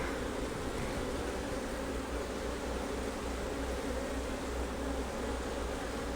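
Honey bees swarm over a hive frame during an inspection, making a dense, continuous buzzing drone that stays steady and fairly loud throughout, with no other sound standing out.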